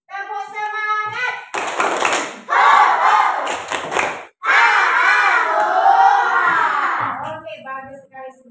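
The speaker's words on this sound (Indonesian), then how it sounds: "mulai dengan tepuk semangat dulu ya" Schoolchildren in a classroom perform a rhythmic clapping chant with a teacher, with bursts of group hand claps alternating with loud sung and shouted voices, ending in a final cheer.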